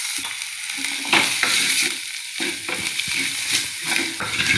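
Spices, pepper powder, coriander powder and curry leaves sizzle in a hot pan for a village-style okra kuzhambu, with repeated scraping stirs over a continuous fry.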